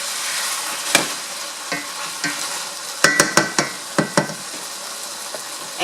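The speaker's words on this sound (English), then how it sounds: "We're going to allow this to continue sauteing." Shrimp and pork sauté in a pan with soy sauce for rice noodles, sizzling steadily at close range while a utensil scrapes and stirs in a run of sharp knocks partway through.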